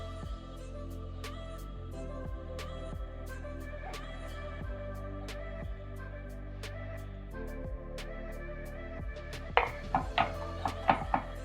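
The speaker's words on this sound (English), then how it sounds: "I think that's minced enough" A knife mincing garlic on a cutting board gives rapid, irregular chopping taps. The taps become louder and sharper near the end, over a low kitchen hum with no speech.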